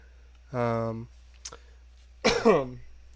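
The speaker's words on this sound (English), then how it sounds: "Got a bad cough." A single rough cough or throat-clear, preceded by a short vocal sound and a faint click, with quiet gaps between.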